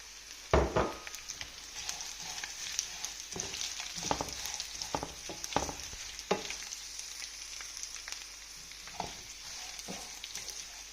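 Fried garlic and ginger go into hot oil for a lemon and dates pickle, setting off a steady close sizzle with repeated stirring scrapes and clatters throughout, no voices.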